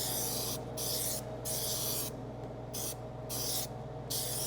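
Spray is applied in an even coat during a convertible top install on a 1967 Firebird, heard as a steady hiss in several short bursts with brief breaks between them.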